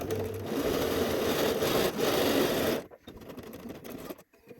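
A sewing machine hums in a fast, steady run stitching down a skirt pocket seam on a dress, close and loud, then stops abruptly, leaving softer handling noise.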